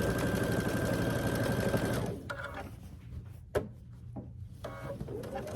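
A sewing machine runs steadily for about two seconds while stitching binding onto a Grinch quilt, then stops, leaving quiet handling clicks and a soft thump.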